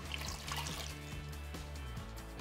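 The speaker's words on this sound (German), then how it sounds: "Die Sahne dazu gießen." Cream poured into a raspberry cream cheese mixture made with double-cream cheese for a layered cake, a steady close liquid pour with soft splashing, no talking.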